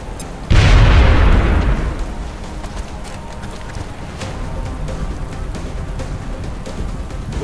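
A grenade goes off in XCOM: Enemy Within with a sudden loud blast that rumbles and decays over about a second, followed by lingering low battle noise and scattered clicks.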